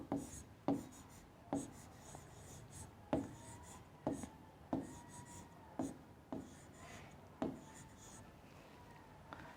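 Handwriting on paper during a primary-school agriculture lesson: a series of soft, close scratching pen strokes with regular sharp taps roughly every three-quarters of a second, faint and steady, with no talking.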